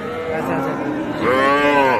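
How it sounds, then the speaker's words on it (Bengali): Young bulls and heifers mooing at a busy cattle market, several overlapping low calls sounding close and loud for about two seconds, with a stronger call rising in the second half. "এগুলো সবগুলো আজকের বাজারে ছোট ছোট ষাঁড় এবং বকনা বাচ্চা"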